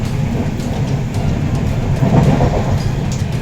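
Loud, steady rumble of the Kanyakumari Express train running on rails in the rain, with continuous low clatter and roar close by, no voices.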